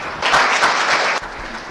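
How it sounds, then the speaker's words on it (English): Audience applause at the opening ceremony of an international patent court conference, a dense steady burst of many hands clapping that fades out toward the end. "once again, please give a big round of applause."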